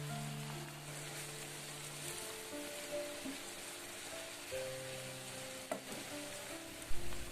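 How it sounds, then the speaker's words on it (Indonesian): Melinjo leaves sizzle in a hot pan, a continuous frying crackle with occasional stirring clatter, while tonal background sounds hum along and a louder clunk comes near the end. "Terus masukkan daun melinjonya atau daun soh, supaya nanti daun melinjonya itu agak layu ya."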